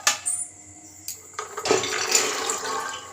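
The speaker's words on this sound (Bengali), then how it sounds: "এবার এটার মধ্যে আমি চানাগুলো দিয়ে দেবো।" Soaked chickpeas poured into a pressure cooker, a rattling, splashy cascade of small wet pellets hitting metal, with a brief clatter near the start and a denser, louder rush in the second half, close and without talk.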